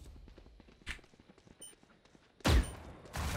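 Gunfire in Valorant during a ranked match: a sharp single shot, then a brief burst, and after a pause a loud rapid spray followed by another burst, with soft footsteps ticking underneath.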